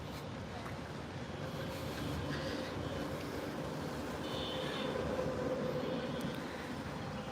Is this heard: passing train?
yes